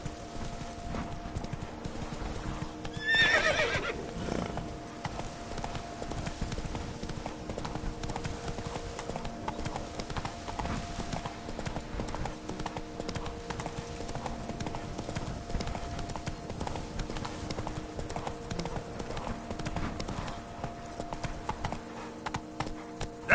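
In The Witcher 3, a horse gallops with a steady, continuous clip-clop of hooves, briefly whinnying near the start, while ambient game sounds hum underneath.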